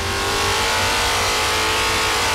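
A big-block Chevy 572 V8 roars at high revs on an engine dyno, loud and sustained, with a dense, throaty growl and no talking.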